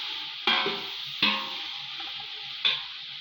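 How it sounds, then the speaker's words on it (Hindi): Chickpeas being stirred and roasted in a hot pan for chana pulao with a spoon of pickle, a soft steady sizzle broken by three sharp scraping stirs. "दो से 3 मिनट बुनाई कर लेंगे चनों की।"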